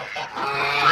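Farmyard geese give a short, loud burst of honking calls, close by and with no talking over them.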